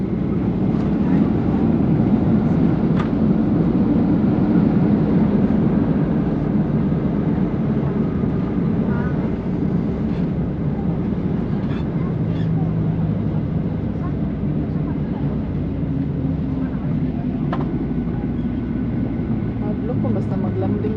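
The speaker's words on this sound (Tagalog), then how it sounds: "Na makita namin yung aeroplano pag mag-landing" A Ryanair airliner landing in Palma gives a heavy, continuous roar and rumble inside the cabin. People talk over the noise.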